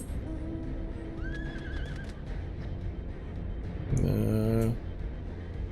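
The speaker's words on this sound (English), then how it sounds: "Time to get on my flying horse and go." A flying horse mount in Final Fantasy XIV neighs loudly, a bright whinny of under a second rising over busy game background sounds, with a faint chirp earlier on.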